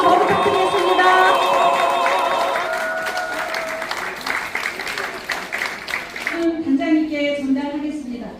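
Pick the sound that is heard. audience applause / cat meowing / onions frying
audience applause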